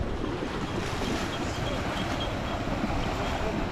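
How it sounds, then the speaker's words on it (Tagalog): A strong river current rushes during a crossing with a carabao at an onion harvest in Vega, Bongabon: a continuous, dense wash of water with wind buffeting the microphone, loud and unbroken. "Lakas pa naman ng agos."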